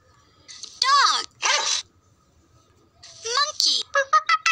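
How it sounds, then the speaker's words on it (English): Several dog barks, close and loud: two long yelping barks early, then a rapid burst of short, sharp barks near the end, with quiet gaps between. "Dog."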